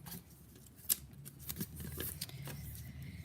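Scissors trimming excess from a foil card sheet, with a few quiet snips and crisp paper rustles spaced over a few seconds, close and soft.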